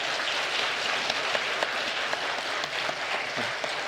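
A church congregation claps steadily throughout, a dense, even wash of applause from a roomful of people.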